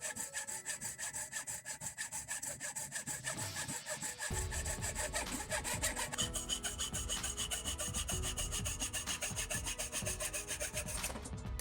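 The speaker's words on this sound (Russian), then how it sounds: "Далее при помощи ножовки отпиливаю нужную часть от общей заготовки." A hacksaw cuts a piece off a blank while a tool for cleaning a vacuum cleaner brush is made, steady rapid back-and-forth rasping strokes close by, growing louder and coarser partway through.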